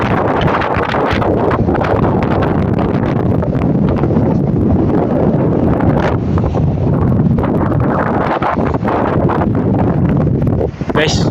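Strong cold wind by the sea roars and buffets the microphone in a loud, continuous rumble, with gusts rising and falling throughout and no clear speech.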